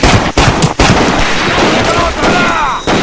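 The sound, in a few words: gunfire and machine guns in the video game Medal of Honor Pacific Assault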